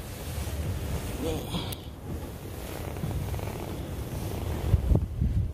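Strong dry wind blows across a vegetable garden in steady buffeting gusts, rumbling against the microphone throughout.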